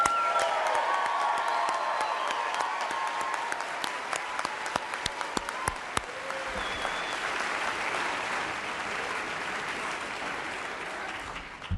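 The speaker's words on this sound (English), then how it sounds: "please join me in giving them another round of applause" A large crowd applauds steadily and loudly, with a few sharper claps and faint cheers mixed into the sustained wash of clapping, at NASA's unveiling of its 2025 astronaut candidate class.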